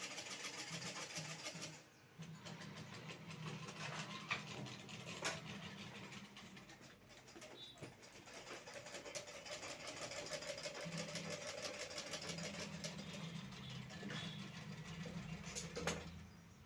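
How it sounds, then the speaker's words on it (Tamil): A pedal-operated sewing machine runs steadily during a power cut, its continuous mechanical whir and rattle filling the room with a dense, busy drone that dips briefly, then carries on without pause. "எப்போவுமே நமக்கு பெடல் மிஷின் ஓடுது"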